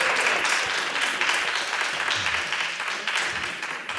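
A church congregation claps its hands together in a dense, continuous round of applause at a Sunday-style worship service, the crowd of claps loud and sustained for several seconds with slight swells in intensity.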